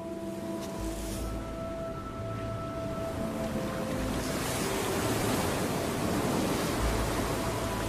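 Ocean surf washes steadily onto a sandy turtle nesting beach, a continuous broad rush of breaking waves with some wind, fairly loud and without any voices throughout.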